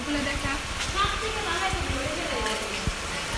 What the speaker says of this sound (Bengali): হঠাৎ এই যে বৃষ্টি শুরু হয়ে গেছে